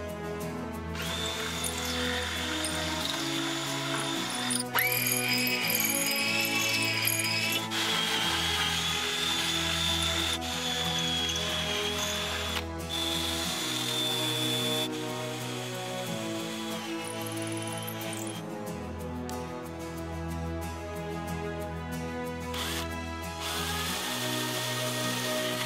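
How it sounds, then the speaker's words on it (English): A power drill bores holes through a boat rudder for a gudgeon, sounding as loud whining bursts that start and stop repeatedly, with short pauses between runs. "now we're gonna drill the other side and match up the two holes"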